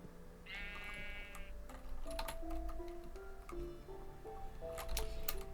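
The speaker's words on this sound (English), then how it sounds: "there's a sheep here, so I can start to make a sheep farm" A sheep bleats once in a video game, a short wavering cry near the start, followed by soft ticking clicks and a stepped run of low tones as game sounds continue; no talking.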